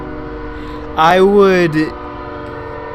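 A train horn sounds once, a loud sustained blast of about a second over a steady rumble of a passing train, with a brief spoken phrase at the end.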